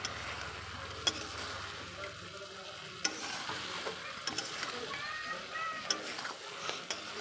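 Vegetables and fried potatoes stirred in a hot pan, a close sizzle and frying hiss with repeated sharp scrapes and clicks of the utensil against the pan.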